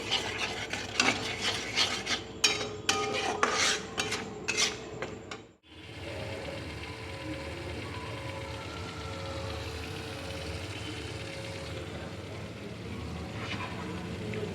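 Paneer being stirred in a pan with a spatula, rough rhythmic scraping strokes for several seconds, then an abrupt cut to a steady low hum with faint sizzling.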